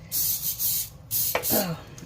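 Aerosol cooking spray hisses onto a baking pan in two bursts, each sustained hiss lasting about half a second, with a short gap between them. A brief voice or squeak comes in near the end.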